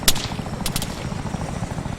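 Military helicopter in the ARMA 3 combat game, a continuous low rotor drone with a few sharp distant shots or clicks early on, no talk.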